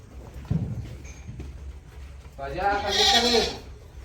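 A billy goat lets out one loud, close, drawn-out bleat lasting about a second, after a stretch of quieter knocks and shuffling.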